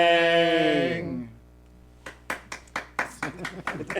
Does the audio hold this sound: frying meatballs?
no